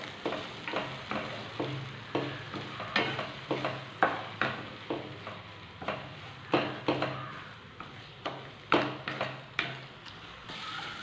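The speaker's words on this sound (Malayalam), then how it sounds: "ഒരു മൂന്ന് നാല് സെക്കൻഡ് നമുക്ക് ഇങ്ങനെ വെച്ചതിന് ശേഷം ഒന്ന് ഇളക്കിയെടുക്കാം." Eggs frying in a pan and being stirred, rhythmic spatula taps and scrapes repeating every half second or so over a soft, low sizzle, with no speech.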